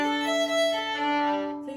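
A bowed string instrument plays the beginner rainbow arch bowing exercise, giving one sustained, smooth tone that swells gently and shifts pitch near the end, with no talking.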